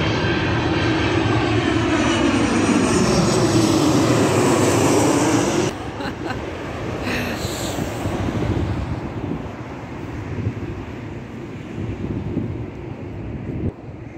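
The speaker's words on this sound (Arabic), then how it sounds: "طيارة، لافيون الثالثة، طيارة طائرة" A loud airplane roars overhead with wind buffeting the microphone, the engine noise sweeping and then easing into a steadier distant rumble.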